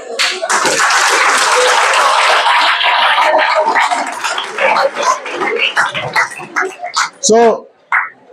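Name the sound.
audience applause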